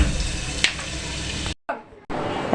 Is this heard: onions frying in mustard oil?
yes